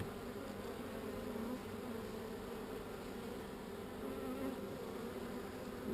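Honey bees swarm and hum loudly at a Layens hive with the lid left slightly ajar, an agitated colony producing a dense, unbroken buzz that stays close and steady throughout.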